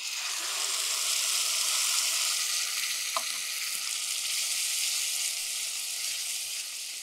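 Ground spice paste for a ginger-tomato kuzhambu frying in a pan, a steady loud hiss and crackle of oil that holds throughout with a single faint clink partway, no voices.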